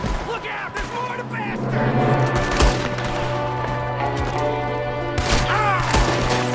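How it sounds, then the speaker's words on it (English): Gunfire in the video game Red Dead Redemption 2, loud shots and rapid bursts cracking over game music and shouting voices during a frantic shootout. "There's another one shooting."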